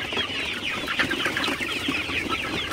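A crowd of Sonali super hybrid chickens cluck and murmur continuously on a poultry farm, a dense steady chatter of overlapping calls close at hand with no talking.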